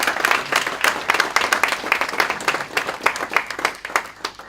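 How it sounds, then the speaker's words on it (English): A small crowd claps together for a few seconds, a dense patter of hands that gradually thins toward the end. "So just a little round of applause for the boys that were doing that."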